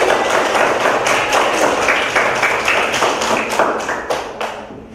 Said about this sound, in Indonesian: Kelompok 2 sangat hebat. Ayo kasih tepuk tangan.